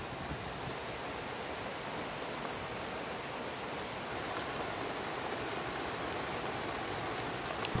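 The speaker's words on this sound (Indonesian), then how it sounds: "Hujan udah mulai turun." Steady rain falling over rice paddies in the countryside, a dense, even hiss that fills the whole clip at close range, with a few brief brighter drips or splashes and no talking.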